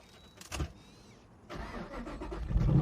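A custom cab-over truck's engine cranks and catches, preceded by a faint click and whine, then settles into a rough, throaty idle that grows louder at the end.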